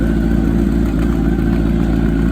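A drag racing motorcycle at a Pro ET quarterfinal, the kind of bike with a wheelie bar, idles with a steady, loud, low rumble. It sits close and holds an even, continuous drone for the whole moment, with no revving.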